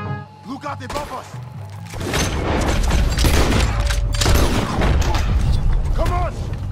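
Heavy cannon fire and booming blasts roll through a Red Dead Redemption 2 mission, a dense continuous barrage of explosions and gunfire with shouting voices heard over the din.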